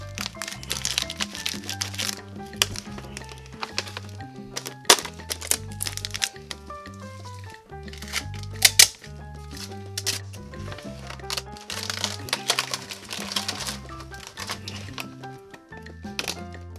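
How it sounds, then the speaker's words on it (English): Plastic poly sheeting is pushed behind a pipe while a concrete floor is repaired, giving close, loud crinkling and crackling bursts in an irregular rhythm throughout. "just push the poly here behind the pipe"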